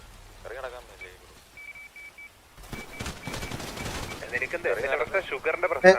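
Bursts of gunfire in a shooting video game, with rapid crackling volleys that grow denser and louder toward the end. Radio beeps come first and a player speaks over the action.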